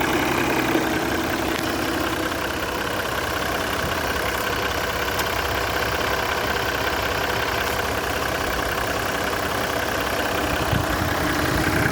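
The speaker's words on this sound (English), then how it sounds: "Sounds like a diesel." A Jeep's diesel engine idles steadily and alone, giving a continuous, fairly loud low rumble with an even knocking texture throughout.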